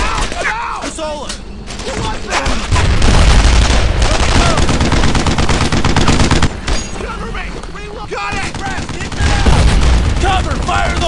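Heavy World War II gunfire in Brothers in Arms: Earned in Blood, a dense, continuous battle of rifle and machine-gun bursts with thuds and explosions, loud and close, while soldiers shout orders over it throughout.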